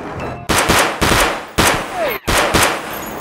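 Loud, close video game gunfire in rapid bursts, four heavy automatic volleys separated by brief gaps, each sharp and booming.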